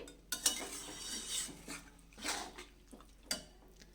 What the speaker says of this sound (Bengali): দিয়ে আর একটু নাড়াচাড়া করতে হবে, হলুদটা যাতে সব মাটনের গায়ে যাতে লেগে যায়, মিশে যায় আর কি।